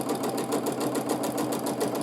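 A sewing machine runs steadily and fast during free-motion meander quilting, its needle pulsing in a quick even rhythm, close and fairly loud with no talking.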